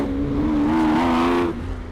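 A Lamborghini Diablo GT supercar engine revs hard, a loud sustained rising snarl with a strong tonal whine that holds for over a second before dropping off, close and without voices.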